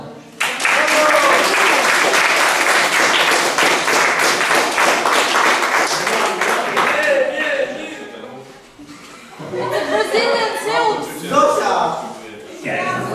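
Audience applause rises sharply after a theater group's stage performance, sustained dense clapping for several seconds before fading into chatter and laughter from the crowd.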